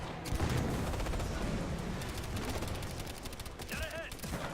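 Bursts of automatic gunfire from a Warhound drone in the video game Ghost Recon: Future Soldier, dense rapid volleys running throughout, with a radio-style voice and game chatter underneath.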